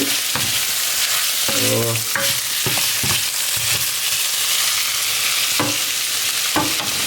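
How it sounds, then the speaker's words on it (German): Minced meat and tomato sauce fry with a steady sizzle in a pan while a spoon stirs and scrapes in short clatters, with a brief word spoken. "Jetzt ein bisschen umrühren, bitte nicht vergessen."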